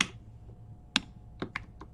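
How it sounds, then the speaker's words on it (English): Computer keyboard typing comes as a few sharp, separate keystrokes with gaps between them, close and clear with no talk over them. "Sorry for my slow typing."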